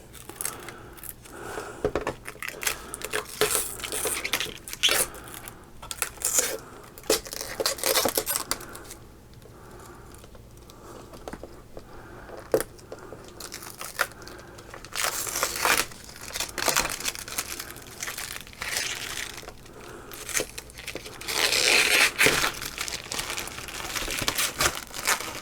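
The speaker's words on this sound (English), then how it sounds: "That's to peel the plastic off of it." Protective plastic film is peeled and crinkled off a ViewSonic VA2759-SMH monitor, giving up close, intermittent crackling and rustling over about twenty-five seconds, with a quieter pause midway.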